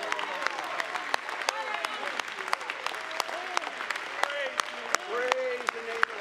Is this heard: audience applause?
yes